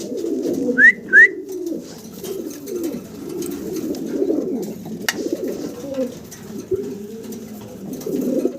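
Low, throaty cooing murmurs from fancy pigeons run steadily throughout, with a couple of brief higher chirps near the start, close by and moderately loud.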